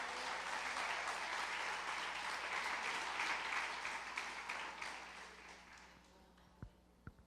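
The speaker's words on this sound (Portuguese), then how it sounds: "Pode dar uma salva de palmas ao Senhor." Church congregation applauding for God during a sermon, a dense, sustained wash of clapping that fades over several seconds, followed by a few isolated sharp claps near the end.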